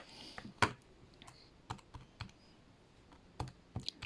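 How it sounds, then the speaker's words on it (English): Someone taps numbers into a calculator keypad, giving a few scattered, irregular clicks and taps, close and fairly soft against a quiet room with no voices. "Typing it in on the calculator."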